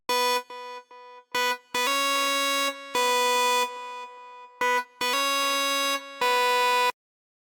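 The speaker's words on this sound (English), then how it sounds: "So this is the train ride lead," A buzzy synth lead plays a simple stepwise melody of short and held notes with brief gaps between them, then stops.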